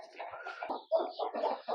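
Several free-range country chickens on a farm cluck in a quick, uneven series of short calls, close by and moderately loud, with no talking.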